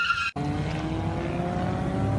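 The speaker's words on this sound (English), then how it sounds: "2 drift cars." Dodge Challenger drift cars race in an Eliminator Series drift competition, engines roaring steadily as tires skid and squeal, loud and continuous after a brief cut.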